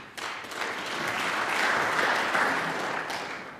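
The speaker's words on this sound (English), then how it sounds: "this Barbican crowd giving a round of applause there" Snooker spectators at the Barbican during a 2017 UK Championship semi-final break into steady applause, a sustained wash of clapping that swells in the middle and continues evenly for several seconds with no talk over it.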